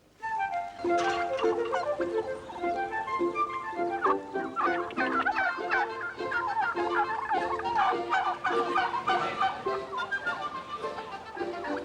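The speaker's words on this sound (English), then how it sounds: "There's only one place that bird could have come from, and that's the North Berrington Turkey Farm." A turkey gobbles loudly and repeatedly at close range, its rapid warbling calls filling the whole stretch with no talk.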